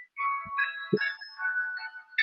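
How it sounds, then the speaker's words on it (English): A phone ringtone plays a short electronic melody of bright sustained tones, fairly close and clear, with a couple of soft low knocks near the start and no talking. "I don't know what that ringtone is"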